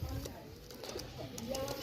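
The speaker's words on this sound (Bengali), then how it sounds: "ভিউয়ার্স, এই যে টেডি 128-এর দুটো বাচ্চা দেখাচ্ছি" Pakistani Teddy pigeons, two young birds, cooing softly in low murmuring phrases throughout, with someone talking over them.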